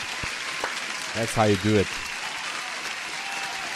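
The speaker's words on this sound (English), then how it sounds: "Let me give you an applause." Applause sound effect played during a live day-trading stream, a continuous wash of clapping running throughout while someone briefly speaks over it.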